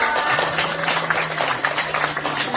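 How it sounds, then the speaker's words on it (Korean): An audience at a middle school freshman welcome Buddhist service applauds the student club president: a short, steady burst of scattered hand claps from a room full of people, with a faint low hum underneath. "박수 부탁드립니다"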